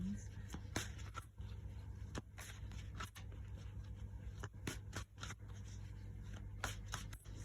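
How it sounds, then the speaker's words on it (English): A big deck of cards being shuffled by hand, giving repeated crisp riffling and slapping bursts over a low steady hum, fairly quiet and close, with a voice speaking in places. "let me just shuffle them first, please."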